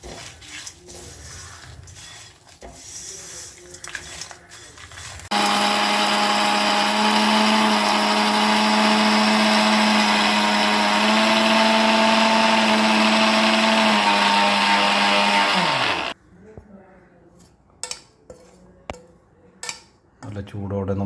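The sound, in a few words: mixer grinder grinding dried prawn and coconut chutney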